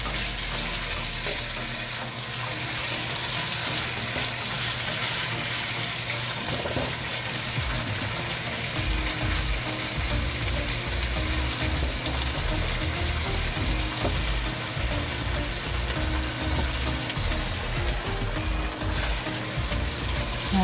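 Chicken liver and tofu frying in oyster sauce in a pan, a continuous wet sizzle and bubbling with occasional stirring clatter, close and steady throughout.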